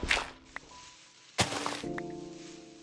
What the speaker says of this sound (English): And now we're mining. Oh yeah, all that sound. So much Minecraft sound.